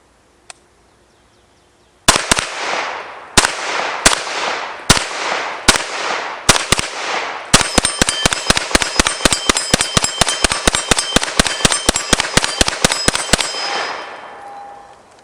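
A Ruger PC Charger fires outdoors. Several single shots come a second or two apart, then a fast string of sharp, ringing reports follows, each with a metallic clang. The shots stop abruptly and a faint tone is left.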